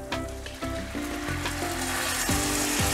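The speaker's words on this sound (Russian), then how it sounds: "Наш рис уже стал золотистого цвета, поэтому мы добавляем белое вино." White wine poured onto golden toasted rice in a hot pan for a Tuscan octopus recipe, a moderate steady sizzle with crackles and some ringing tones, no talk.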